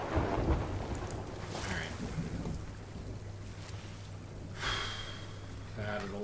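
Stormy weather in the Sea of Thieves pirate game, rolling thunder and a washing rush of rain and sea water over a ship, with someone talking across it.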